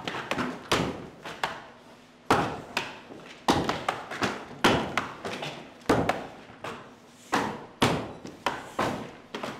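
Axe strikes thud repeatedly into a wooden block during a STIHL Timbersports US men's qualifier, a steady run of loud, sharp chops about every half second to second, close up, with a commentator talking faintly underneath.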